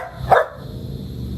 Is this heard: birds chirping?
no